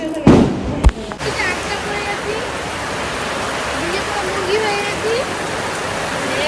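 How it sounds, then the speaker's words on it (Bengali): Heavy rain caught partway along a road: after a couple of sharp knocks at the start, a loud, dense, unbroken roar of downpour fills everything, with faint voices barely audible underneath. "প্রচুর বৃষ্টি গাইস, আমরা বাড়ি যাওয়ার সময় বৃষ্টিতে আটকা পড়ে গেছি অর্ধেক রাস্তাতে।"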